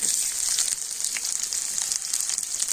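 Onions frying in a pan with green chillies for ghugni, a steady close bright sizzle that holds at one level from start to finish with small crackles, no voices.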